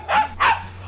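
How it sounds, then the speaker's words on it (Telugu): A dog gives two quick, close barks in a row, loud and clear over a low steady hum, with no voices. "కుక్క అరుస్తోంది"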